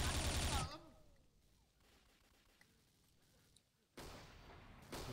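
Gunfire in the shooter game XSHOT, loud bursts at the start and again near the end with a quieter stretch between, mixed with game effects.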